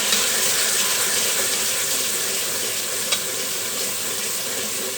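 Spiced tomato masala with red chili powder, salt and turmeric frying in a pan for a black chickpea curry, giving a steady, close, dense sizzle throughout with one brief clink near the end.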